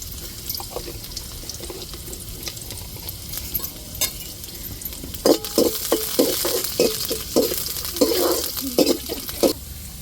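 Onions frying in hot oil as spices are tempered for a fish curry, with a steady sizzle and a series of stirring scrapes and clatters building in the second half, close and fairly loud.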